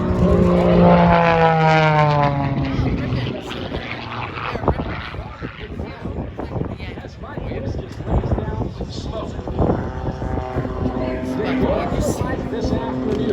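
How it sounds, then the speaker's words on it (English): A Michael Wiskus aerobatic propeller airplane at the 2021 Great State of Maine Airshow, its engine droning and shifting pitch as it maneuvers at a distance, heard under continuous announcer commentary and wind noise. "Watch him now as he pushes hard on the right rudder to fall this airplane back down."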